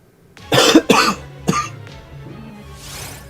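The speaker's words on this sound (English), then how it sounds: "There's another cough" Two sharp, close coughs in quick succession, followed by a softer throat-clearing burst, then a quiet room with faint background hum.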